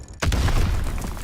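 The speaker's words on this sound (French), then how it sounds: "Explosion." Explosion in the World War II shooter Call of Duty WW2, a sudden loud boom that cuts in and then rumbles on with a dense, sustained roar, with no talk over it.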